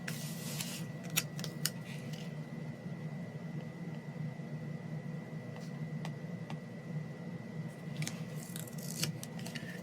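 Scissors trim paper for a journal in an artist studio, giving quiet, close snips in small clusters at the start and end, heard over a steady electrical hum and background hiss.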